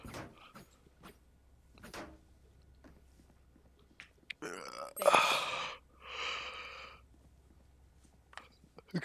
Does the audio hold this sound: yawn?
yes